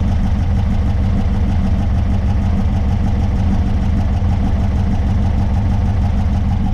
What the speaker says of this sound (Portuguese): Vocês estão vendo o motor da Kombinha, né? Olha o motorzinho.